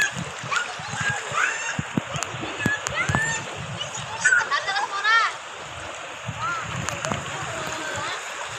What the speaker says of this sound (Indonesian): Sisi ombaknya itu masuk dari sini